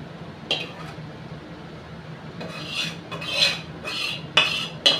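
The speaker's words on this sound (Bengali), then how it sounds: "এবার আমি ভালো করে এটাকে নাড়িয়ে ঝোলটাকে নামিয়ে দেবো" Shankar fish curry being stirred in a pan, giving soft rasping scrapes that grow busier toward the end, with a few sharper clinks of a utensil against the metal.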